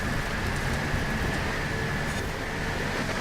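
Steady rain hissing throughout a Forza Horizon 4 race in a Unimog, a broadband wash with a faint engine rumble beneath, continuous and fairly loud.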